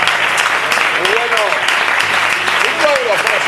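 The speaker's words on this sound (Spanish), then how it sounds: "¿Puedes aplaudir al" A church congregation applauds during a sermon, loud dense clapping mixed with raised voices and cheering calls from the crowd.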